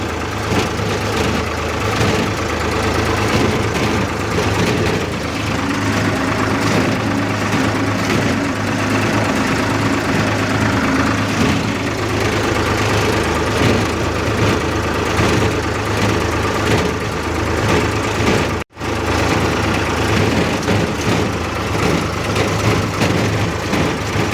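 Tractor engine running steadily while ploughing a field, a loud continuous low rumble with constant vibration and one very brief dropout near the end.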